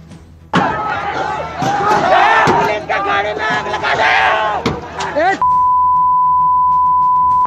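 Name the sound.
violent mob of protesters attacking police with stones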